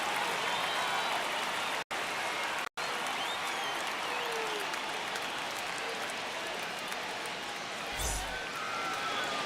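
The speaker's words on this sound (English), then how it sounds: "the crowd is amped up, ready to get this season underway" A stadium crowd applauds continuously in the baseball video game MLB the Show 25, a dense, loud wash of clapping and crowd noise broken by two brief dropouts and a low thump near the end.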